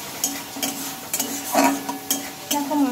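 A vegetarian spice paste made without garlic or onion sizzles in hot oil in a pan, while a utensil scrapes and stirs it in several distinct, periodic strokes close by.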